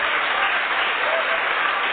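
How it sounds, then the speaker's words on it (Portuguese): A large church congregation in São Paulo's Igreja da Lapa bursts into sustained applause, a thick continuous roar of clapping with no distinct individual claps, heard through band-limited, muffled sound. "dar a melhor salva de palmas que já foi dada para a palavra"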